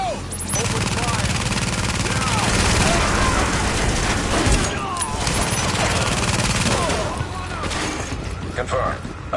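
Rapid video game gunfire during a squad assault bursts loudly and continuously, dense volleys layered with impacts and shouted voices throughout.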